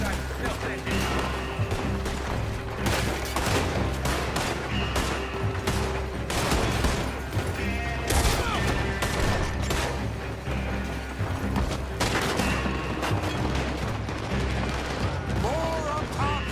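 Heavy sustained gunfire rattles through a Red Dead Redemption 2 shootout, with many overlapping rifle and revolver shots over a loud, dense battle bed and voices shouting.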